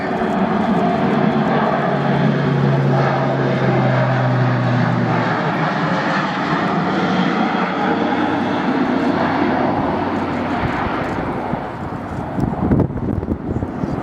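Airbus A400M military transport aircraft at a flying display, its turboprop engines droning loud and steady as it climbs, with a low tone sliding early on and wind buffeting toward the end.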